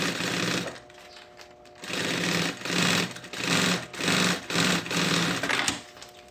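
A sewing machine stitches a lining onto synthetic backpack fabric in several bursts of rapid, even needle chatter. Short pauses separate the runs, and the stitching sounds close and clear.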